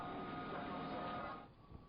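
SNCF BB-22245 electric locomotive of the 22200 class hauling a train between Marseille and Nice, a dense, steady rumble of wheels and traction that fades out near the end.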